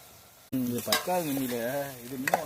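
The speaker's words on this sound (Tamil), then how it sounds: "இப்போது சிக்கனை போட்டு நன்றாக வதக்கி கொண்டிருக்கிறார்கள்" Chicken curry with ginger-garlic paste sautéing in oil, a sudden close burst of sizzling with stirring, a faint voice underneath.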